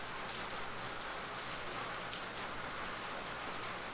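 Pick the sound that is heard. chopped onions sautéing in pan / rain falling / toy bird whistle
rain falling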